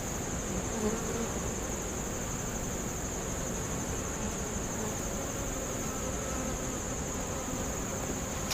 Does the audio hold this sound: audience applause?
no